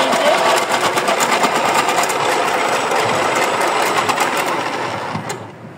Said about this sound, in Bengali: পেঁয়াজগুলো কাটছি